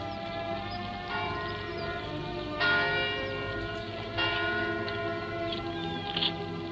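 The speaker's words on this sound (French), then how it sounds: "L'Angélus qui sonne à Rouen." Angelus church bells ringing over Rouen, a sustained, resonant peal with several fresh strikes layered over a lingering hum, heard from a distance without voices.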